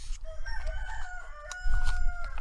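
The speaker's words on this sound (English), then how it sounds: "There ain't no peace and quiet when you got roosters and hens are cackling all day long." Roosters crow in long drawn-out calls at a coop, with hens cackling and clucking close by, overlapping and continuous, the calls swelling louder toward the end.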